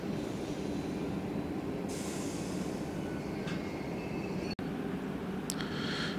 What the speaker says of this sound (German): das ist der Eurocity Express Mailand Frankfurt